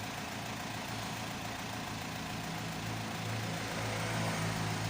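An Isuzu D-Max pickup truck's diesel engine idles steadily after repair with a low, rumbling drone that holds at an even level, no voices present.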